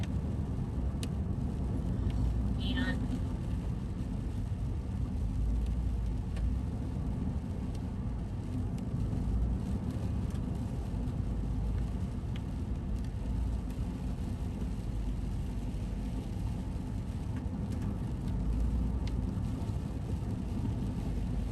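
Steady low road rumble and wind from inside a car driving through a residential area of Lynnwood and Deming, continuous and even throughout with no talk.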